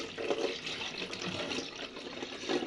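Milk poured into a cup in a home kitchen, a steady liquid splashing and trickling that runs continuously for a few seconds at close range, fairly quiet, with no talking.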